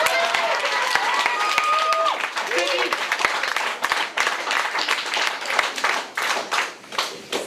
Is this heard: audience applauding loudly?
yes